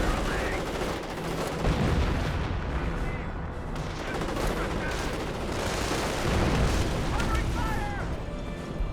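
Gunfire and explosions from the World War II strategy game Company of Heroes hit a half-track, a dense, continuous barrage of shots and blasts with a voice talking over the battle.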